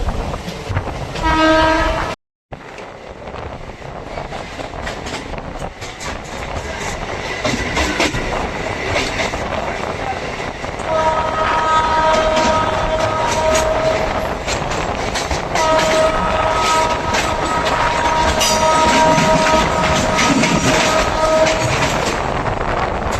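A local train from BBD Bag to Kalyani runs into Barrackpore station, its wheels rattling loudly and steadily with repeated horn blasts and a rising rumble as it enters, after a brief cut early on.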